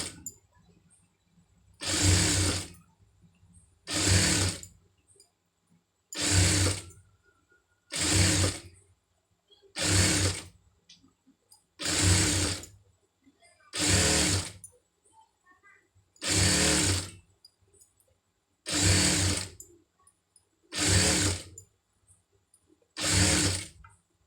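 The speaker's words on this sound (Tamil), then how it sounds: "இதில் வந்து கரெக்டாக ஒட்டில் அப்படியே தையல் போட்டுருங்க" A sewing machine stitches thread piping onto fabric in about eleven short, evenly spaced bursts of rapid mechanical clatter, each lasting roughly a second. The bursts are close and loud, with near silence in between.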